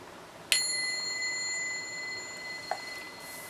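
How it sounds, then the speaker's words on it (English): A little hand bell struck once to clear the space, a bright ringing tone that lingers for seconds, followed by a fainter second tap near the end, with no talking. "here's my little bell"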